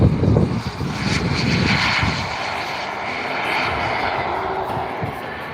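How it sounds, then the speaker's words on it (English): A large Futura model jet aircraft flies at an outdoor airshow at Elvington, its engine a steady, moderately loud roar sustained throughout, strongest at the start, with faint talk underneath. "Joining Luke with the Integral, we've got the large Futura."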